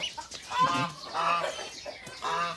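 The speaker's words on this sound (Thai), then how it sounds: "ทั้งไก่งวงทั้งเป็ด ทั้งห่านนะครับ" Turkeys, ducks and geese call from a farm poultry pen, with a few repeated, fairly close honking and clucking bursts and no talk.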